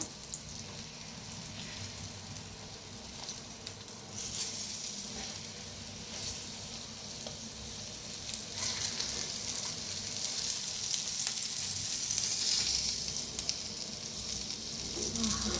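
Eggplant slices frying crisp in a pan of hot oil, a steady dense sizzle all the way through that grows a little louder after the pieces are turned, with faint stirring and no talking.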